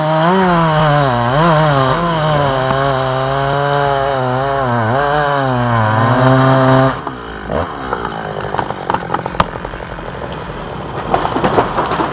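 A big professional chainsaw cuts through wood: a loud, steady engine drone with shifting pitch for about seven seconds, then choppier, rougher cutting and rattling noise as it bites into the timber.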